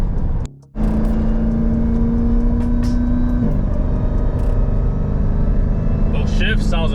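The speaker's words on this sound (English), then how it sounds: "Those shifts sounds amazing. The exhaust kind of pops at each gear." A 797 hp Jeep Grand Cherokee Redeye Trackhawk accelerates hard through its gears, a loud constant engine and exhaust roar with a shift break and exhaust pops, while people talk over it.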